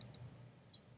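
A computer mouse clicked twice in quick succession near the start, faint and close, followed by a low steady room hum with one small tick near the end.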